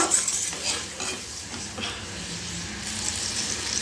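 Tilapia fish curry gravy boils in a pan on the stove, a close, continuous bubbling sizzle with a few soft clinks and scrapes of stirring.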